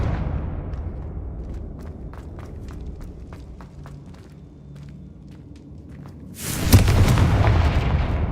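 Confringo fire spell in the video game Hogwarts Legacy, a sudden loud explosive boom erupting after several seconds of quiet footsteps and low ambience, then rumbling on.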